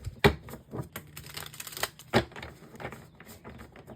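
Tarot cards being shuffled by hand in a few quick bursts, crisp riffling and tapping sounds close by, separated by short pauses.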